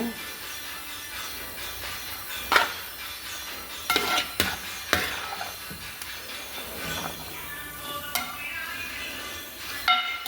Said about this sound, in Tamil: இந்த டைமில் தயிர் ஆட் பண்ணிக்கோங்க. கிண்டி விட்டுருங்க.